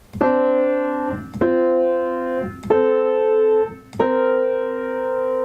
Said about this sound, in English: Tense intervals are yellow and sound like this.